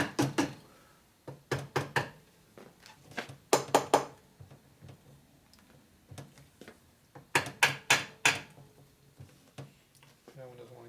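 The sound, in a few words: plastic hammer tapping motorcycle engine parts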